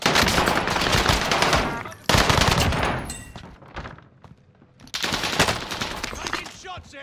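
Loud, rapid gunfire bursts from a first-person shooter video game, dense automatic fire broken by a short lull, with faint voices in the mix.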